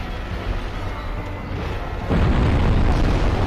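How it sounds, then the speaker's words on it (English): A boss in Dark Souls casts an explosion spell, giving a loud, rumbling boom that swells sharply about two seconds in and roars on, layered over steady game ambience. "Keeps frigging casting explosions that hit me when I'm not anywhere near them."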